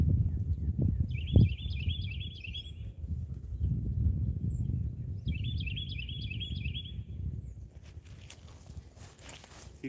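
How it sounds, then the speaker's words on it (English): Spring birds sing outdoors in two clear bursts of rapid, repeated chirping phrases, moderately near, over a low rumbling background with scattered thumps and footstep-like sounds. "You can hear them spring birds singing."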